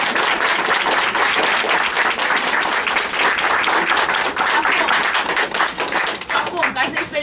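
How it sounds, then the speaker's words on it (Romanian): A theatre audience at La Scena in Bucharest claps loudly and continuously after a Goldoni play, the applause thinning into more distinct individual claps near the end. "să-i aplaudăm. Ne aplaudăm!"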